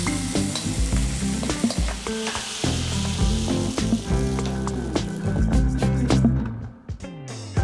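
Shrimp frying in a wok, with loud steady sizzling and the clatter of a utensil stirring and scraping against the metal, close up and without talk.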